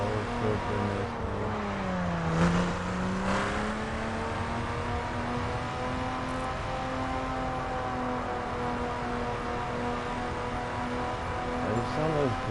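A 2011 BMW Z4 street edition rated at 412 hp, heard from inside while driving: a loud steady engine drone with a pitch dip and rise as it shifts and revs, someone talking over it.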